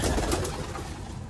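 Domestic pigeons flutter and coo close by as a pair is released to fly, a steady soft rustle of wings and low cooing with no talk.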